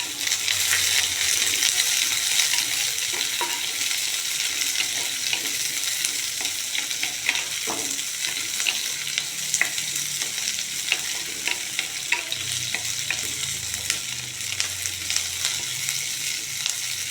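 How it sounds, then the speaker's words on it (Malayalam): Sliced onions for an onion theeyal curry sauté in hot oil in a pan, giving a steady, loud sizzle with scattered clinks and scrapes of a spoon stirring them, and no voices. "ഉള്ളി ഇട്ടിട്ട് നന്നായിട്ടൊന്ന് വഴറ്റുക"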